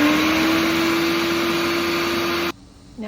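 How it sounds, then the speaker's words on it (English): A food processor pureeing jalapeño peppers with apple cider vinegar, a loud steady motor whir close up that runs for about two and a half seconds and then cuts off abruptly. "so I've added our peppers into the food processor, and we are going to add 1 cup of our apple cider vinegar. Okay, puree until it is finely blended."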